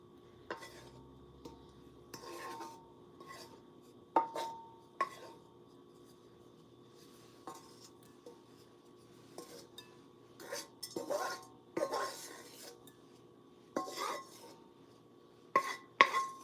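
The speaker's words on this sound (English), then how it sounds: "Let me push out. The rest of the onions." Onions scraped and pushed out of a pan for an Egyptian omelette, with scattered clinks and scrapes of a utensil against cookware, several sharper knocks near the end, over a quiet kitchen background.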